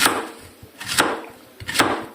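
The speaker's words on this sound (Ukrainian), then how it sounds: "Це я нарізаю е, такими немаленькими кусочками." A knife cuts zucchini into large chunks on a board, three distinct chopping strikes in an even rhythm, close and fairly quiet.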